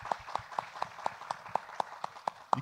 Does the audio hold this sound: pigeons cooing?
no